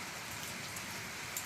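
Soft, steady rain falls evenly throughout, a quiet, even patter with no voices and no breaks.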